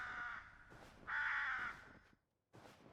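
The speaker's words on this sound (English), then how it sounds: "We're hearing birds." Crows caw in the Finnish marsh wilderness of the UnReal World survival game, three or four harsh rasping calls in a loose sequence, moderately distant and faint, with no talking.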